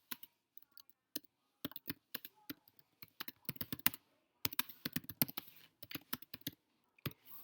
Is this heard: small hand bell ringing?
no